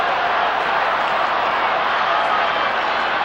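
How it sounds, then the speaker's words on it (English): Carlton supporters at the 1993 AFL Grand Final against Essendon roar in one dense, unbroken wall of crowd noise, loud and steady throughout, the cheering of a packed stadium with no single voice standing out. "Carlton fans have something to cheer about"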